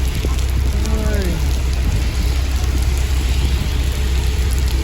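Heavy rain pours steadily in a Middle East desert setting, a dense continuous hiss close by, with a brief faint voice partway through.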